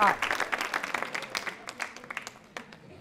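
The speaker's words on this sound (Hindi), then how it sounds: "तालियां बजाइए सुहाना जी के लिए जोरदार तरीके से।" At a quiz show held at a cancer hospital, an audience claps for a guest; the applause starts fairly strong, then thins and fades to scattered claps within a few seconds.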